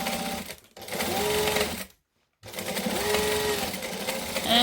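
Sewing machine stitching the lining of a saddlebag, two steady bursts of fast mechanical whirring close by, separated by a short pause, with no talking.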